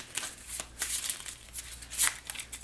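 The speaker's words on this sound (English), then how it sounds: "Now we need to shuffle the discard pile up so he can draw his second card." Discard pile of cards being shuffled during a board game of Multiuniversum, heard as a quick series of soft, papery riffling bursts at close range and low volume, with no talk over it.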